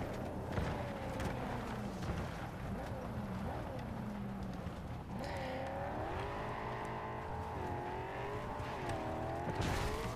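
A fast car in the video game Cyberpunk 2077, its engine droning steadily with rising and falling pitch as it speeds and swerves, loud throughout with a continuous wash of road and game noise.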